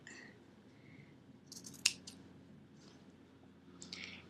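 Quiet, close snips of scissors cutting small holes into a shirt for a DIY crop top, a few crisp clicks and slices spread across a soft background hush.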